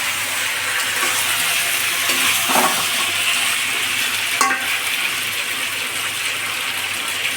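Potatoes and browned meat are stirred in a hot frying pot, giving a steady close sizzle with occasional scraping strokes of a utensil against the metal.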